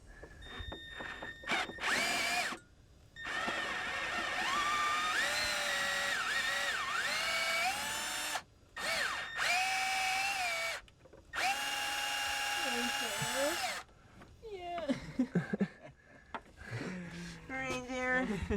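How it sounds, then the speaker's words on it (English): A power drill bores a tap hole for an oil line on an SR20DE+T engine, loud whining bursts that rise and fall in pitch with short pauses between, and people talk briefly. "We already started drilling it"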